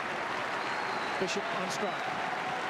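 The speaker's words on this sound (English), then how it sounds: "Crowd clapping, chanting." A stadium crowd at a 1992-93 Australia v West Indies Test cricket match claps steadily as a distant, continuous wash of applause, while a commentator speaks over it.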